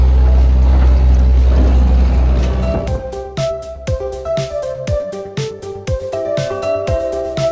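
A motor cruiser boat runs at about 20 knots, its engine a loud, deep, continuous roar at first, then giving way to a rhythmic series of thumps and knocks with tonal ringing over a lower hum.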